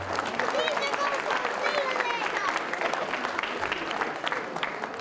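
Outdoor crowd applause at a Gaelic football club presentation after the 2019 intermediate football championship final, a steady dense clapping wash with talk and chatter mixed in throughout.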